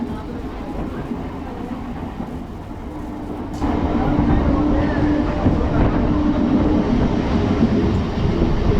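MEMU passenger train 67204 on the Renigunta–Nellore run, heard from inside the coach: a steady rumbling roll with rail clatter that swells louder partway through and then holds continuous.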